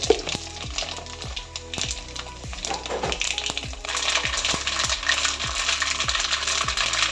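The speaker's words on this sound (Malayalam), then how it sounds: "അതേ ചീനച്ചട്ടിയിൽ കുറച്ച് എണ്ണ ഒഴിച്ച് അതിലേക്ക് കടുകിടുക" Mustard seeds hit hot oil in a pan while cooking a brinjal pickle: a steady, close crackling and sizzling that grows denser and brighter partway through, with small rhythmic pops and clicks throughout.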